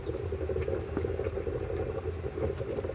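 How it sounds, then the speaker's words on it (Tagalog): Water boiling in a pot on the stove while rice cooks, a loud continuous bubbling churn that stays steady throughout. "Kumukulo na siya."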